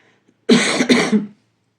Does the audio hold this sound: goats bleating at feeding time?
no